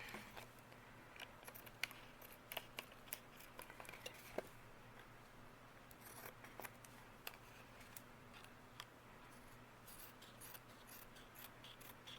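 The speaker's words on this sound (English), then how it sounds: "Let's cut off the edges of that." Scissors cut the edges off a fused plastic sheet, giving faint, quiet snips and clicks that come at irregular intervals in a still room.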